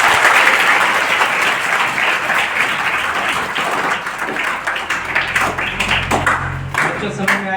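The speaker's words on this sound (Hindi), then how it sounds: "ताली बजाओ, जोरदार ताली बजाओ इसको।" A group of children applauds loudly in a school hall, with sustained, dense clapping that stays strong throughout and a few voices mixed in near the end.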